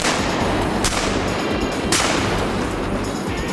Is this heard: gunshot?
yes